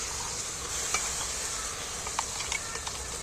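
Steady sizzling of poppy seeds and onions frying in a pan, with occasional light scrapes of a spoon stirring, close and continuous.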